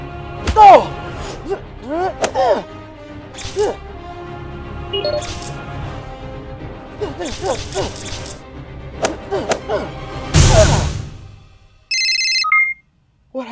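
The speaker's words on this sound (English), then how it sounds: "Spectacular called me and I forgot to put my phone on vibrate." Mobile phone ringtone going off at an awkward moment in a Spider-Man episode: a short, loud electronic ring near the end, following scattered thumps and speech-like sounds.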